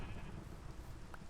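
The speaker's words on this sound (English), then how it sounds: "Forgot I was trying to hunt down sheep." Sheep in the Minecraft video game giving a single quick bleat, brief and faint over a dense background hum.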